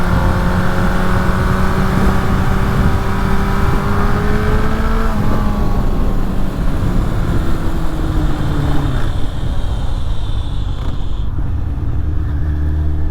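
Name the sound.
Suzuki Bandit motorcycle engine accelerating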